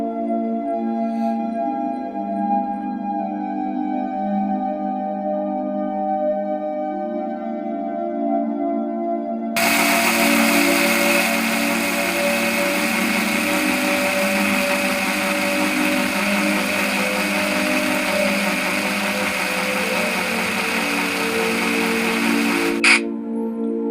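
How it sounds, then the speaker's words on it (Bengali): A mixer grinder blends a spice paste with a little water, starting partway through as a loud, continuous high whirring roar that runs steadily to the end and cuts off abruptly, after a quieter stretch of background tones. "অল্প পানি দিয়ে মিক্সার মেশিনে ভালোভাবে পেস্ট তৈরি করে নিন"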